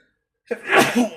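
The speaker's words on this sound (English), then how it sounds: "I'm going to sneeze, I think, in a minute." A single sharp sneeze bursts out close up after a brief silence, a quick intake followed by a loud explosive burst.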